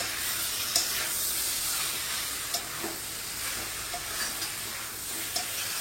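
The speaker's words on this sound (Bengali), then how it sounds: "এবার এটাকে ভালো করে মশলার সাথে চিংড়ি মাছটাকে কষিয়ে নিতে হবে।" Prawns sauté with spices in a pan, giving a soft continuous sizzle with a few sharp spatula taps and scrapes spaced through, close but fairly quiet.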